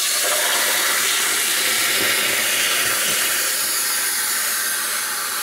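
A hot copper boiler being quenched in water gives a loud, continuous hiss and bubbling steam rush that stays strong and steady throughout.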